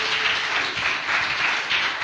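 Church congregation clapping hard together, a dense, steady wash of applause filling the room without pause.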